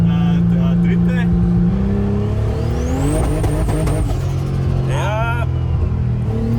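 A 1300-horsepower Nissan Patrol revs hard in repeated sharp bursts that climb and bounce off the rev limiter, close and loud, with people talking over the engine noise.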